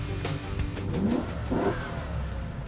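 A 1967 Pontiac Firebird engine with a hot air intake revs up in short bursts, rising and falling twice in a throaty swell, fairly close and moderately loud.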